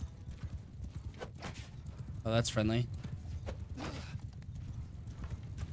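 Horses galloping across a Mount and Blade 2 Bannerlord battlefield, a steady clip-clop of hooves running under a voice, with a brief loud whinny-like burst in the middle.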